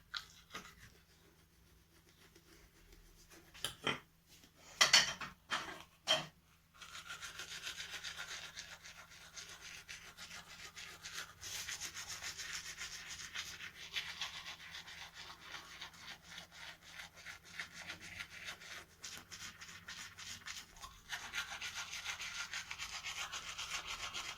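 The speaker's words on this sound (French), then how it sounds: "Je me brosse les dents, tout simplement, avec de l'eau." Close, scratchy scrubbing of a toothbrush against teeth, quick rhythmic bristle strokes continuing for a long stretch after a few sharper knocks.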